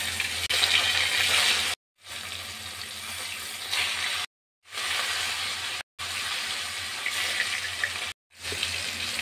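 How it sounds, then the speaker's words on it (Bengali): Pieces of katla fish sizzle in hot oil with a steady, bright crackling hiss, heard in several sustained stretches separated by short silent breaks. "মাছ ভাজার এক পিঠ ভাজা হয়ে গেছে, আমি এখন আরেক পিঠ উল্টে দেব"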